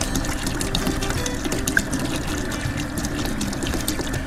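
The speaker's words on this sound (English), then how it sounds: "And in go my water." Water poured into a large pot to make a vinegar-and-water brine for spicy garlic dill pickles, a steady splashing, trickling flow heard close and continuous throughout.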